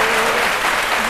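Studio audience applause during a live midday television show, a dense, steady wash of clapping held at an even loudness from start to finish, with no one speaking over it.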